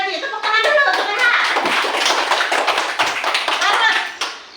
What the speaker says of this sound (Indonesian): Tepuk tangan dulu untuk Leha.